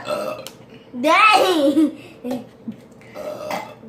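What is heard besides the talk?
burping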